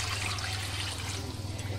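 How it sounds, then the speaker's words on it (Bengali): Water is poured steadily into a cooking pot on the stove, a continuous close rushing splash that holds at an even level for the whole stretch, with no talking. "পরিমাণ মতো জল দিয়ে দিচ্ছি"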